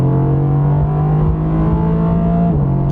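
A 2020 Mercedes-AMG GT R Pro with a 577-horsepower twin-turbo V8 drives on a slick road, its loud, steady engine drone close and continuous, pitch holding level before dipping slightly near the end.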